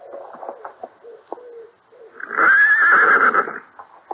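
A horse whinnies loudly and close by for about a second on returning to the stable after an early morning ride, with soft shuffling and small knocks before and after.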